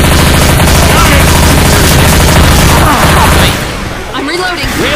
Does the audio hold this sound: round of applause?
no